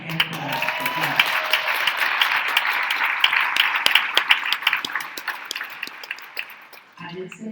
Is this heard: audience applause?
yes